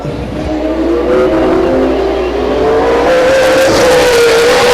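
Race cars accelerate off the green-flag start at Stockton 99 Speedway in California, a loud blended roar of engines rising steadily in pitch as the pack pulls away, with no voices over it.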